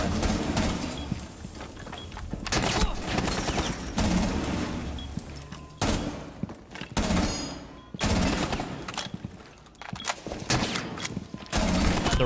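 Rapid gunfire from a Rainbow Six Siege match, in bursts of automatic shots with brief gaps between them, loud and close with a busy mix of game effects.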